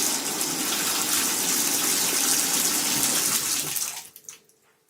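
Water from a tap gushes at full force down a drain just cleared with vinegar and baking soda, a loud steady rush lasting about four seconds before it cuts off and trails into a few drips and gurgles.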